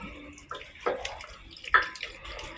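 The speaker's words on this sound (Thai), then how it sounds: "กะทิลงไปเลยทีนี้ครับ" Coconut milk poured into a pot for Korat-style coconut noodles, a close liquid splash and trickle with a few louder pours over quiet background.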